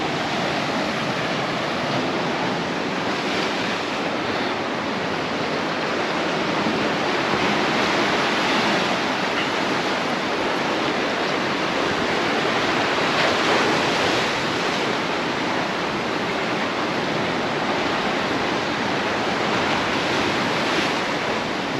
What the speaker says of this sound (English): I'm sure you can hear the sea smashing against the rocks